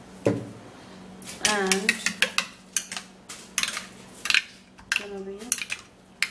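A potato skin remedy with vitamin E is mixed in a bowl, giving quick clinks and scrapes of a utensil against the dish, near and fairly loud, with a voice talking over parts of it.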